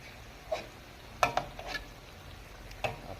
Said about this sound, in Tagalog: Ilagay ko na yung kakanggata.